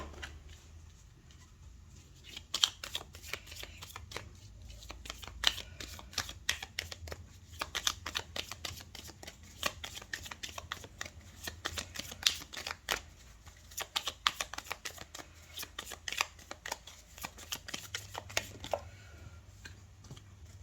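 Tarot cards shuffled and laid out for a weekly reading, a quiet, irregular run of soft flicks, slaps and riffles close by, with no talk.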